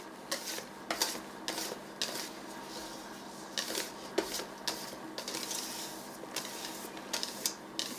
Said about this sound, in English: you want to take it and fold it in from the inside to the outside